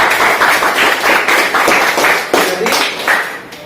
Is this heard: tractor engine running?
no